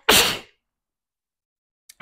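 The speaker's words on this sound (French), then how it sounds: "Désolée, je vais éternuer." A single loud, close sneeze from a woman, one sharp burst followed by silence, with a faint brief noise at the end.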